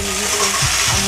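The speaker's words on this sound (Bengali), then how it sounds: "এবার এর মধ্যে দিয়ে দেবো আমি কেটে রাখা টমেটো" Loud, steady sizzle and crackle of chopped tomatoes hitting softened onions and spices in a hot pan, a continuous hiss with faint scraping of stirring.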